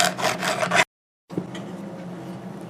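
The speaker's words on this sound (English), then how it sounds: "So first I go across the ends of the frets with a file," Metal file rubbing across the fret ends of a handmade soprano ukulele to clear lacquer buildup, heard as a steady raspy scraping, broken by a short silence before a fainter stretch of scraping resumes.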